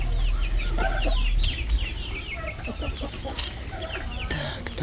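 Several chickens, including a Wyandotte and a crested hen, clucking and squawking nearby in irregular bursts, with a low rumble underneath and occasional chirps from other birds.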